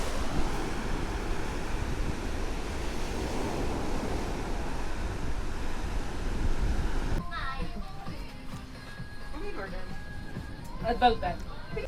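Steady broadband rush of surf and wind on a Boracay beach buffeting the microphone, then the wash drops away and quieter background with faint voices follows.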